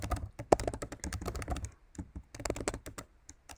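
Someone types a username and password on a computer keyboard in rapid, uneven bursts of crisp clicks with short pauses, close and clear, with no talking.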